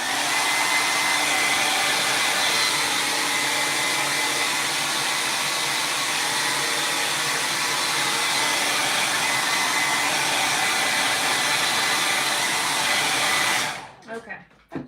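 A hair dryer blows steadily on a freshly painted holiday wreath, a loud, close, continuous airy whir that runs unbroken for many seconds before switching off near the end.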